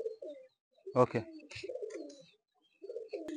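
Baby Malwai pigeons coo in low soft rolling bursts, close and faint, broken by brief silences, with a man's short word and a sharp click in between.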